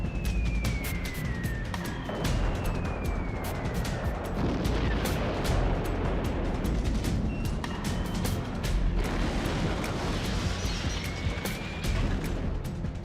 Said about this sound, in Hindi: बमबारी हो रही है।